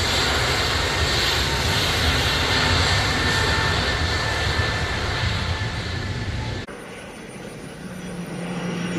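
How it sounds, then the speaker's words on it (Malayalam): A small Indian Airlines jet flies close by near Kochi airport, its broad, loud engine roar steady for several seconds before dropping off abruptly to a quieter hum. "ജെറ്റ് മോഡലുള്ള ചെറിയ പ്ലെയിനാണ്."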